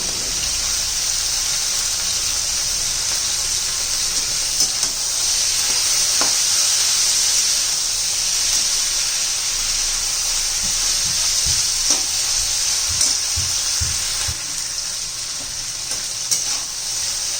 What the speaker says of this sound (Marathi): परतून घेते आता शिमला मिरची